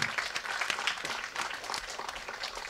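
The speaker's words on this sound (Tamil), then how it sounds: "இதனால் பலத்த கரகோஷம் கொடுங்க அவருக்கு." Applause from a studio audience at a Tamil talk show, a soft, steady patter of many hands heard from a distance at low level.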